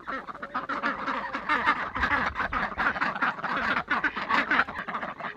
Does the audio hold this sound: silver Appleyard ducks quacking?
yes